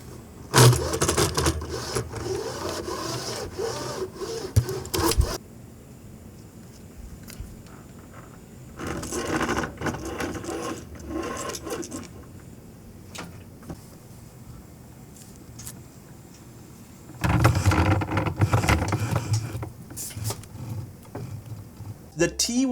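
Mechanical whirring and clicking from a racing wheel's gears and belt in three loud bursts, separated by quieter stretches with faint rattling.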